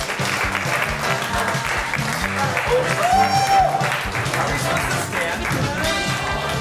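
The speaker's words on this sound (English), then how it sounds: "Give them a huge round of applause." An audience at a one-year anniversary special gives a steady round of applause that runs throughout, mixed with music and a voice talking over it.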